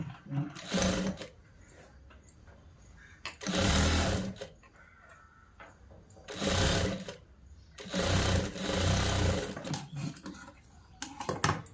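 A sewing machine stitches sleeves onto a boy's school shirt, running in several short, loud whirring bursts separated by quiet pauses, with light handling noises between runs.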